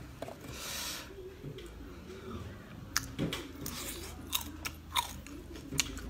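Someone eats crunchy braised quail close to the mic, with several loud crisp bites and chewing crunches in an irregular rhythm over a low background hum.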